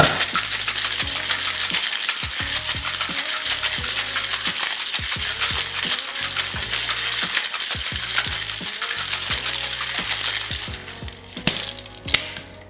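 Ice rattles hard inside a cocktail shaker for a Hemingway daiquiri, shaken in a fast, even rhythm of clattering strokes that stop near the end, leaving a few loose knocks.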